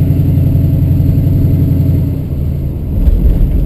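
A 1968 Ford Mustang V8 coupe's engine runs close by with a deep, throbbing low burble at steady revs, easing off briefly before a short rise toward the end, with no talk over it.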